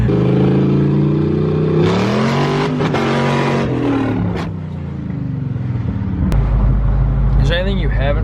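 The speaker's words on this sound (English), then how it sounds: "It's really clattery though, downshifting." A 6.0-engined S10 drag truck clatters as its transmission downshifts. The engine drone falls in pitch, then comes harsh rattling and a sharp knock before the motor revs again, with voices talking over it.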